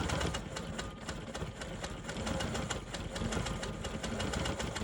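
A sewing machine quilts a tight pebble pattern on an economy block, its needle running in a fast, even, loud rhythmic chatter that holds steady throughout with no talk.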